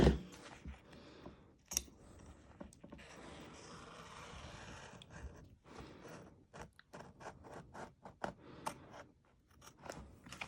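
Scissors snipping through stabilizer fabric while making a zip bag: a run of crisp, close blade cuts and clicks, some in quick bursts, with soft rustling of the material between them.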